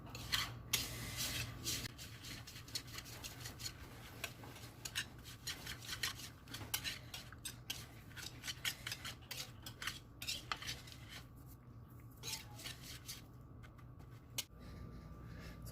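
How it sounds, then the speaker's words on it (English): A utensil scrapes and clinks against a bowl while oat and carrot cake batter with almond flakes is mixed, giving a quiet, irregular, continuous series of rubs and taps with no talking. "So just mix it everything"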